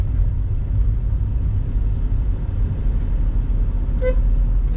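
Heavy lorry rumbling past on a Hyderabad city road at night, a steady loud low roar of engine and tyres filling the whole stretch, with a short car horn toot near the end.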